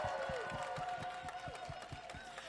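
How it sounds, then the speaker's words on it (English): Faint, distant applause and whooping cheers from the audience at a runway ball, the scattered claps rolling on steadily beneath rising vocal shouts throughout. "Another round of applause."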